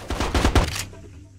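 Quick burst of automatic gunfire in the video game Ghost Recon Advanced Warfighter 2, four or five clipped shots in rapid rhythm that cut off sharply, then a brief fading tail; loud, close and alone.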